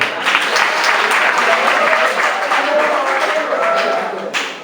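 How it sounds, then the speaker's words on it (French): A ceremony audience applauds the authorities with dense, sustained clapping that fills the room, loud and continuous before thinning slightly at the end. "Je voudrais qu'on les acclame encore une fois."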